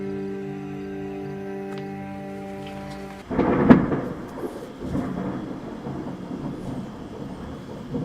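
A sharp, loud crack of thunder bursts over steady rain, then rumbles and fades while the rain keeps falling.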